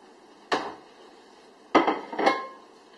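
Kitchen clatter as a plate and a greased baking pan are handled while serving mushroom pinwheels: one sharp clink, then two more knocks close together, near and crisp in a quiet room.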